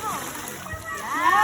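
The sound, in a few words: inflatable swim ring put into swimming pool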